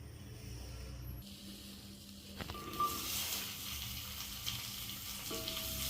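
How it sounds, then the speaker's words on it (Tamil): Sliced okra frying in oil with whole spices in a pan gives a steady, soft sizzle and hiss throughout, fairly quiet, with a few faint clinks and stirring noises. "வெண்டைக்காயை நல்லா வதக்கிக்கிறோம்."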